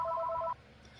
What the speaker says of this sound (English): that was a phone call I had to take